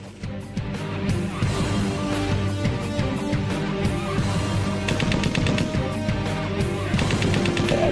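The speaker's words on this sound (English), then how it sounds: "we've got a little bit of music, but also there's gunfire on there as well" Rapid machine-gun fire from historical warplane cockpit footage at an airshow display, loud continuous bursts rattling over engine drone and background music, with sharper volleys toward the end.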